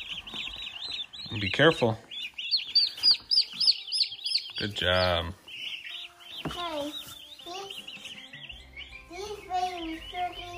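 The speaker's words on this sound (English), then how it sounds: "these baby turkeys are pretty" Baby turkeys at a farm store give high, rapid chirps in a close, dense chorus, with adults and someone talking over them at intervals.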